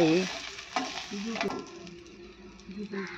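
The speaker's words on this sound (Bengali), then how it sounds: "আলু ভাতে মাছ ভাজা" Rohu fish frying in hot oil in a pan, with a close, continuous sizzle, bursts of spattering and stirring, and some talking over it.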